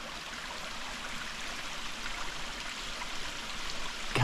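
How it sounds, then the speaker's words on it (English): Fast-flowing water rushing through a rock crevice on a rainy cliffside wilderness track in the Budawangs, a steady broadband roar heard from a distance without any talk. "There's some very fast flowing water around here."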